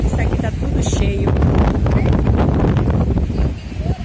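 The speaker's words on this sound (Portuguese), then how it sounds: "ventando muito." Strong wind in a mangrove buffets the microphone in loud, rumbling gusts, with a voice talking underneath.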